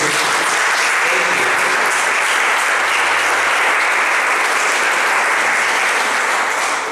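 A church congregation applauds in praise, a dense, steady wash of clapping that fills the room at full volume for the whole stretch, with no break and no clear voices standing out.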